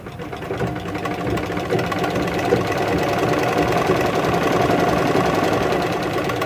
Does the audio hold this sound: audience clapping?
no